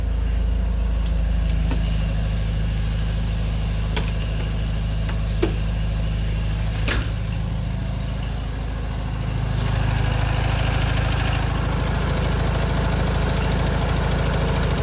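A vehicle engine that has sat unused for 50 years idles steadily with a low, even rumble and a few sharp clicks, its tone lifting and thickening slightly toward the end.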